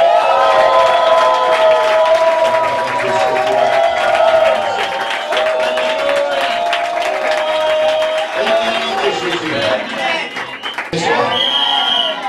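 A church crowd cheers and applauds loudly during worship, its voices rising in sustained shouts over the clapping. The noise continues without a break and shifts a little in strength toward the end.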